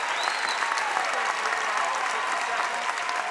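Crowd at a high school boys' basketball district championship game applauding steadily, a dense continuous wash of clapping and cheering that holds throughout.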